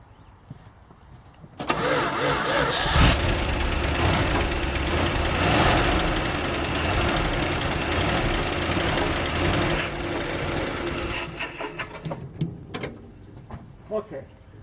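A Dodge D300 farm truck's 360 Mopar V8 cranks and catches, then runs at a rough, loud idle for several seconds before shutting off, followed by a few clicks and knocks nearby.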